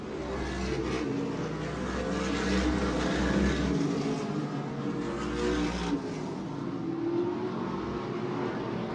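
Race cars roar around the oval at Twin State Speedway in Claremont, New Hampshire, during a season-ending October race, with a loud, steady engine drone and low rumble sustained throughout as the pack circles the track.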